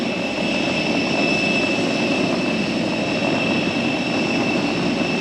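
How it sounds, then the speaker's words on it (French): A passenger airplane at an airport gate heard from inside the terminal or on the apron, a steady loud engine drone with a sustained high whine, unchanging throughout. "C'est notre avion."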